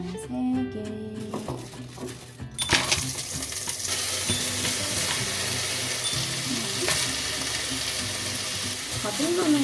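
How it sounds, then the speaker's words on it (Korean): Cabbage and eggs stir-fry in a pan, a dense close sizzle with scraping and clinking of a utensil against the pan; quiet clatter comes first, with a voice briefly heard. "양배추 계란볶음을 만들어 볼게요"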